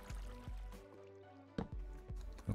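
Lava bubbles and gurgles softly beside obsidian in Minecraft, a few quiet liquid pops and plops spaced out over a faint, low background.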